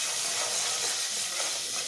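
Annatto powder (colorau) dropped into a hot pan with garlic paste and salt, giving a steady, bright, close sizzle and hiss that holds evenly throughout without talk.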